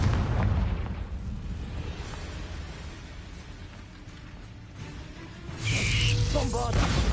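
A Confringo fire spell explodes in Hogwarts Legacy, a loud booming burst near the end that rises out of steady, rumbling game ambience.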